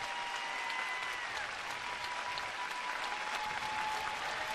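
Steady, moderately distant applause from an arena audience after a figure skating short program at the U.S. Championships, a continuous wash of clapping with a faint sustained tone running underneath.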